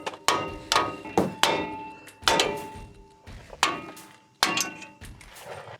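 Sharp metallic hammer strikes knock parts out of a Ford F-150 wheel hub during an IWE delete install, about seven separate clanging blows at irregular intervals, close and fairly loud, each ringing briefly before fading.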